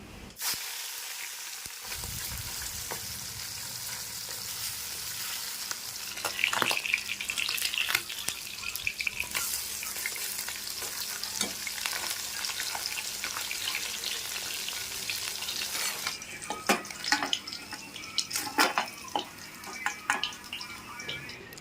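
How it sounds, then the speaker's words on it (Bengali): Steady sizzling of fish frying in hot oil, with crackling bursts that grow louder now and then and faint scraping from stirring. "এবারে মাছগুলি দিয়ে ভেজে নেব"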